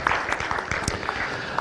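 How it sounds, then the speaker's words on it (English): An audience at a city council meeting claps for library staff in a short, sparse patter of hands, fairly loud and close, with no talk over it. "Give them a round of applause."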